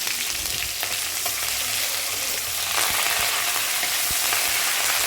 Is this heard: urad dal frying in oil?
yes